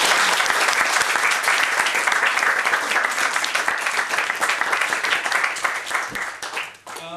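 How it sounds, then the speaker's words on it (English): An audience claps for an animation artist after a talk, a full, dense round of applause that holds strong and then thins out and fades near the end. "Another round of applause for Max Hattler."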